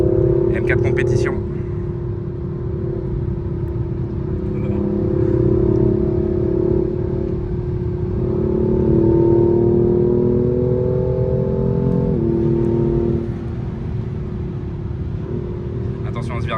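A BMW M4 Competition laps the Nürburgring Nordschleife, its engine a steady in-cabin drone whose pitch rises and falls through gear changes and corners, with muffled voices faintly beneath.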